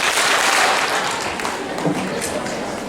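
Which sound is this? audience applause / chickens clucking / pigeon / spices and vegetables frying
audience applause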